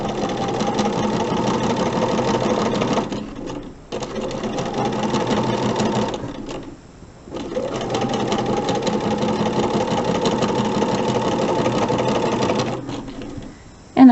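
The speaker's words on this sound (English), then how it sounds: "continue sewing just like I did before" A sewing machine stitches seams on an hourglass quilt block in long, steady, close runs, pausing briefly twice before resuming at the same even pace.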